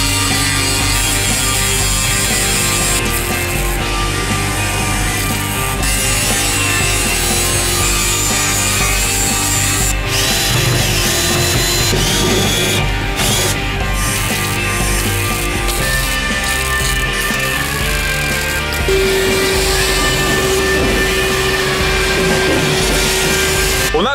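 AEG angle grinder cutting on a car body during restoration of a Moskvich engine bay, harsh grinding and scraping with sustained whines and shifting pitch, close and continuous.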